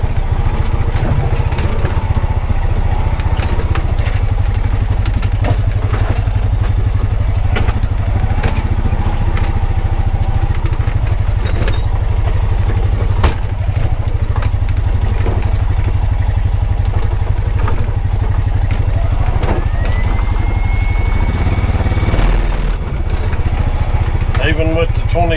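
An ATV with 27-inch tires rides over rough washout terrain, its engine droning steadily and close with clattering knocks and bumps throughout, while a person talks over it.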